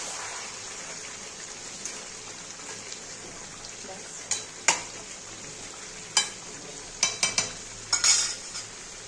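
Chicken and potatoes frying in a pan for chicken kosha, a steady sizzle with intermittent scraping clinks of a utensil stirring, growing more frequent toward the end.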